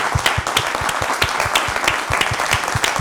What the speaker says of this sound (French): Et applaudissements pour vous.